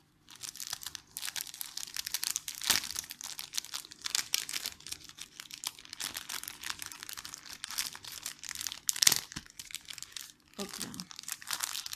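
A paper mail envelope is torn and crinkled open in short, uneven rips and rustles, fairly quiet and close, with someone speaking briefly.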